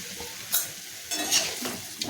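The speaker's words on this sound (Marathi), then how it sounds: "मिक्स करायचं आहे दोन मिनटासाठी" Potatoes for a quick Mahashivratri fasting dish are stirred in a pan over sizzling oil, with close scraping strokes and a couple of louder clanks against the pan.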